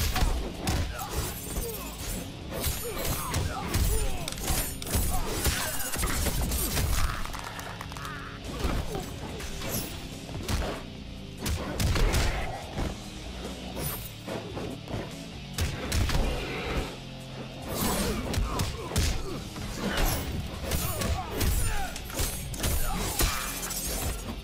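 Dense, loud fight effects from Mortal Kombat XL: rapid punches, crunching impacts and shattering hits pile up continuously, with occasional grunts and game voices mixed in.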